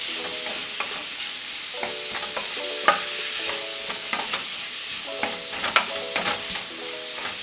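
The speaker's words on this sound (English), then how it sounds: "so we're going to hurry up and throw in our jackfruit. We'll go ahead and mix this up with our onions and our garlic." Jackfruit stirred with onions and garlic in a frying pan, a continuous sizzle broken by repeated scraping and clattering strokes of the spoon, close and moderately loud, with no talk.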